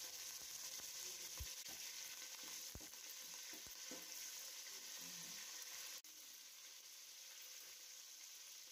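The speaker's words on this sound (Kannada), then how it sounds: "ಈರುಳ್ಳಿ ಈಗ ಚೆನ್ನಾಗಿ ಫ್ರೈ ಆಗ್ತಿದೆ" Onions fry in a pan for vegetable pulao, a continuous soft sizzle with occasional spoon scrapes and taps, quiet and close, no speech.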